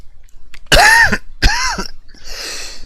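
A person clears their throat and coughs close to the microphone: two loud, harsh bursts with a brief gap between them, followed by a softer breathy rasp.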